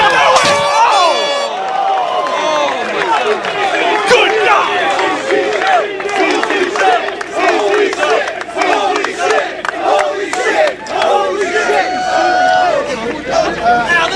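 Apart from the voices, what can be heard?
wrestling crowd chanting jump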